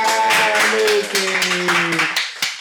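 Audience clapping at a hospital presentation, a dense burst of handclaps that carries on the whole time with steady sustained tones over it and fades near the end.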